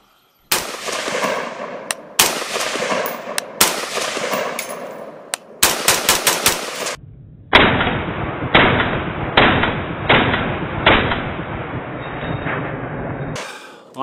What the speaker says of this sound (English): Let's go ahead and put a little bit of lubricant on this thing and send some rounds down range.